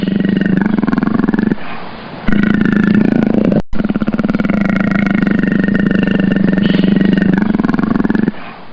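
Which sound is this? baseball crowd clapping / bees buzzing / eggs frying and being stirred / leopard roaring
leopard roaring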